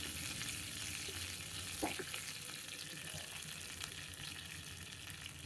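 Rice flakes fry in hot ghee in a pan, giving a steady, close sizzling hiss with light stirring scrapes throughout and a few brief clinks.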